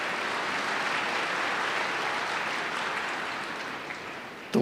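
A live audience at a Hindi yoga gathering claps together in steady, dense applause, a broad continuous wash of hand claps that holds at even volume before a brief louder burst at the end.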